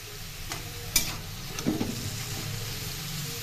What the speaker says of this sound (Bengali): ফোড়ন ভেজে এর মধ্যে কচুর শাকগুলো দিয়ে দিলাম।